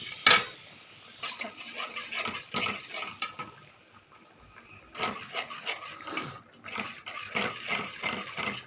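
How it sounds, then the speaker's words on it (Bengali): A curd gravy for okra being stirred in a pan, with repeated scraping, clinking utensil strokes against the pan in uneven bursts, close and fairly quiet, with no talk. "গ্যাসটা আস্তে করে দইটা দিয়ে এবার নাড়াতে থাকবো।"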